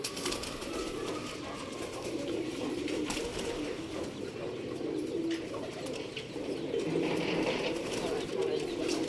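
Pigeons coo and flutter around a loft during a flock's first flight training, a steady murmur of birds with wing movement and some background voices throughout.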